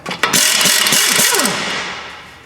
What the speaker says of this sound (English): Using a 19 millimeter, I'm just going to loosen and remove this outer tie rod.